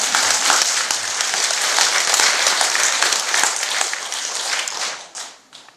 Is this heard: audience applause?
yes